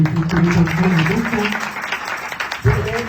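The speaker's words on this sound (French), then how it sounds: "Alors, l'église peut acclamer très fort." A church congregation applauding and cheering loudly during a French-language service, with dense clapping and voices running throughout and a fresh swell near the end.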